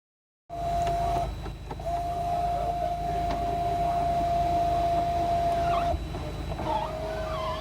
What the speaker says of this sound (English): Make sure all windows are working properly, open them up and close them down.